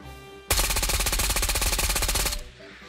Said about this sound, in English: Let's try and shoot that tree.